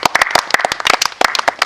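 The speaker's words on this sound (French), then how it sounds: "On peut applaudir." An audience at a live music broadcast applauds, a dense burst of hand clapping that keeps going steadily at close range with uneven peaks throughout.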